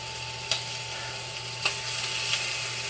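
Chicken browns in a hot pan for a lemon chicken dish, giving a steady close sizzle broken by a few light clicks of stirring.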